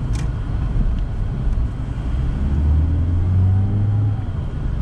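A 1989 Toyota Corona GLi 2.0 manual on a test drive gives a steady low engine rumble and road noise from inside the car, swelling a little as it pulls along, with no talk.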